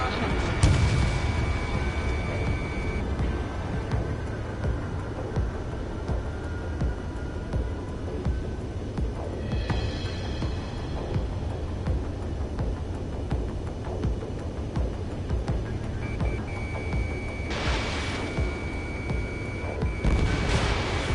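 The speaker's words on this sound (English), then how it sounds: "Missile away." Missile launch and explosions in the jet combat game Ace Combat 7 come as rumbling booms and bursts, loudest at the start and near the end, over a steady engine drone, with radio voices talking.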